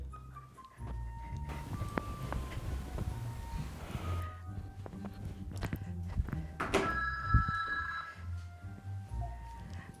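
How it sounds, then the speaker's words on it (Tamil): A home landline telephone rings in a room, a bright electronic ring repeating over a steady background hum before someone picks up. "வீட்டு டெலிஃபோன் வேறு"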